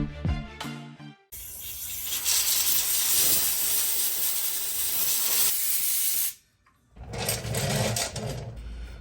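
Compressed air blasting Loctite residue out of bolts and bolt holes on a Harley Street Glide front cylinder head: loud, sharp hissing bursts with a brief gap between them, close and harsh.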